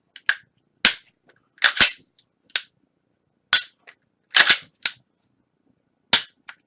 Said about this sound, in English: Reassemble and functions check. As you tuck it back, it locks back into place.